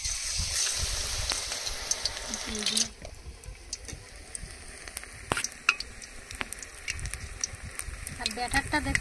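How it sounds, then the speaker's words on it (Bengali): Battered potato sticks on skewers frying in hot oil for crispy potato chips, a steady broad sizzle and bubbling that drops quieter after a few seconds, with scattered crackles and small clinks throughout. "এবার একটা একটা করে ব্যাটারে চুবিয়ে ভেজে নেব।"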